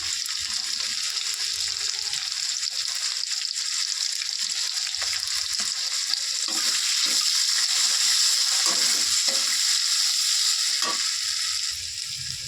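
Potato pieces fry with salt and turmeric in hot oil in a home kitchen, a loud continuous sizzle with intermittent stirring scrapes and clatters growing busier toward the end.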